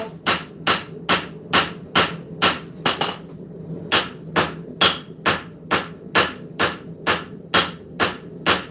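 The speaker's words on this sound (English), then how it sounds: "I can come across and hammer bevels in on top of the steel and not burn myself" A smith hammers bevels into hot steel at a forge, a steady run of sharp, ringing metal strikes about twice per second, loud and close, with one brief pause midway and no talk.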